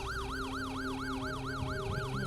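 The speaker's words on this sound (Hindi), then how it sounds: "ये एम्बुलेंस क्या कर रही है तो मेरे घर के सामने?" Ambulance siren outside a house in the middle of the night, a loud continuous wail sweeping up and down in regular cycles over a low idling rumble.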